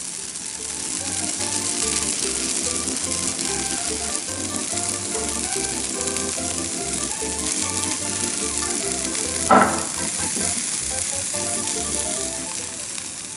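Takoyaki batter with octopus pieces sizzles in a takoyaki pan, a steady bright frying hiss running alongside a looping background music track, with one brief clack near the end.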